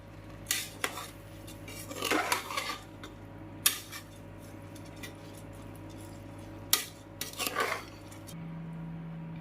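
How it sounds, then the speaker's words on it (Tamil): A utensil stirs uncooked rice into a pot for paneer dum biryani, giving a few scraping clinks and metallic knocks against the pot in short bursts, spaced apart over a low steady hum. "அரிசி போட்டு லைட்டாக கிளறிக்கலாம்."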